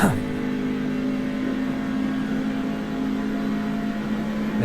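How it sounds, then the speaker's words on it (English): Steady engine drone of a C Open Truck in the iRacing sim at Darlington, with a broad low rumble underneath suggesting the body scraping the pavement, continuous and fairly loud throughout. "it's still low enough you can hear it scraping the pavement"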